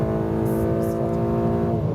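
A car at full throttle on the autobahn drones loudly and continuously from inside the cabin, the engine tone rising steadily as it accelerates past high speed.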